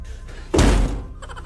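A person walks straight into a closed door, giving a single loud, heavy thunk with a brief rattle of the door before it fades to quiet room tone.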